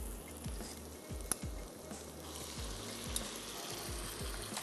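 Marinated chicken with soy sauce, salt and black pepper stir-frying in a pan with vegetables, giving a steady close sizzle broken by the repeated scrape and clatter of stirring, with no talk.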